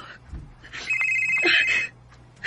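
A telephone ringing in a radio drama, a buzzy electronic ring of about a second with a short burst after, faint background and a brief voice nearby.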